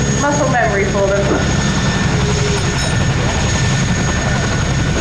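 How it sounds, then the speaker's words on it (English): Souped-up 450 horsepower Stearman biplanes flying a wingwalking display at the Duxford Summer Air Show drone steadily overhead, a loud continuous engine roar with shifting pitch and voices talking over it. "These are not just ordinary Stearmans, are they? No, so they are 450 horsepower."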